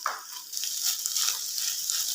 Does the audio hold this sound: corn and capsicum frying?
yes